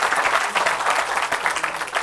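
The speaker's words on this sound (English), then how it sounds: "Let's have a round of applause for everybody who's there." An audience applauds at an institute induction programme, with dense, continuous clapping from many hands filling the room evenly and loudly, with no voices standing out.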